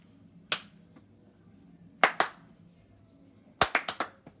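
Hand claps during a children's throw-and-catch exercise: a single sharp clap, then a quick pair, then a rapid cluster of three or four claps, all close and crisp over a quiet room.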